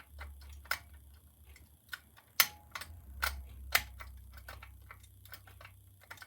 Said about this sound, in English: I'm just cranking the tension up a little bit more now.